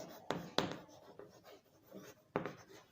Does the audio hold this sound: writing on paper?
yes